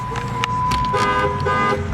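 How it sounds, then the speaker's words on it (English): A 2008 Dodge Charger police car's horn toots a few short times over a steady electronic tone and low background rumble, fairly close. "Honk works."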